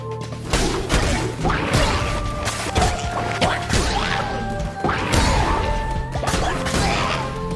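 Chunky smashing blasts repeat in a fast irregular rhythm as divine explosion attacks hit in the video game Cult of the Lamb, each loud crash followed by bright ringing tones.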